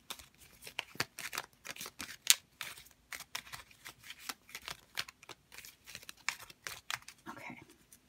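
Oddly shaped oracle cards are shuffled by hand in quick, papery riffles and soft slaps, a close, fairly quiet run of irregular bursts with brief pauses, and no talking over it.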